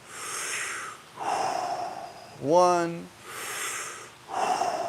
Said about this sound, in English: A little nose breathing right now is okay.